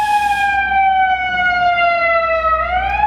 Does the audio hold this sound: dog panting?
no